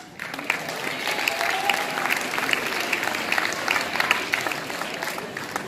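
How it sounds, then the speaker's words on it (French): An audience at a sports ceremony in Florange applauds warmly, a dense, steady wash of clapping that carries on evenly for several seconds without pause. "Je vous remercie infiniment de m'avoir si chaleureusement applaudi"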